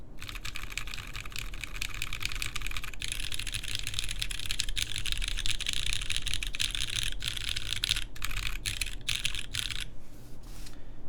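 Typing on a QK Neo60 keyboard with MX Brown switches and GMK keycaps gives a fast, steady stream of close, muted keystroke clacks, easing into a few scattered presses at the end.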